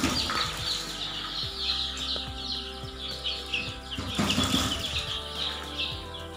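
Ninety-two newly hatched chicks move about an incubator tray: soft fluttering and scrabbling with rapid, high peeping chirps from many birds at once, fairly close and continuous, with no talking.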